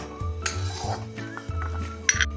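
Fried dry fruits being scooped out of ghee in a pan, with metal spoon scrapes and light clinks against the cookware, close and fairly loud, over a low steady hum.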